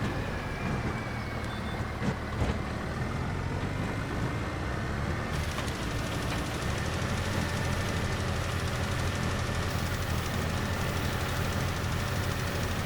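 A tractor engine in Farming Simulator 25 drones steadily under load while spreading lime, a continuous low rumble that holds at an even level for the whole stretch with no voices.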